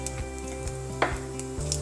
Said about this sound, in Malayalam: ഉണക്കമുളക് നല്ലപോലെ ഒന്ന് മൂത്ത് വരണം